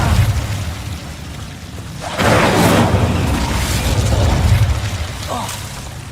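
Casting the Incendio fire spell in Hogwarts Legacy unleashes a loud, roaring burst of flame with a rumbling low-end boom that swells midway and sustains, over a steady background of game ambience.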